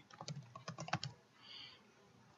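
Keys clatter on a computer keyboard as a search term is entered into a university library database, a quick close burst of a dozen or so taps followed by a faint hiss.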